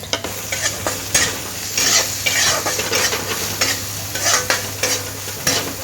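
Brinjal fries with turmeric powder and salt while a utensil stirs it in rhythmic scraping strokes over a loud, continuous sizzle, close up, with no voices.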